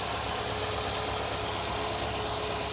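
A turbocharged 4-cylinder engine in a 1989 Dodge Caravan idles steadily and close by, a loud, even mechanical drone with a faint high whine, with no talk over it.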